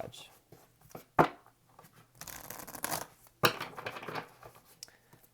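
Tarot cards are shuffled by hand close up, with soft papery rustles and sharp crisp snaps of cards riffling together in irregular bursts, quiet in a still room.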